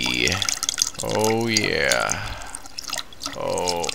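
A man urinates after drinking a lot of bottled water, a steady liquid stream splashing and dripping for the whole stretch while he talks and groans over it.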